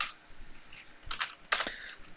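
Computer keyboard typing in a few short bursts of clicky keystrokes, fairly quiet and close, with gaps between bursts and no talk over it.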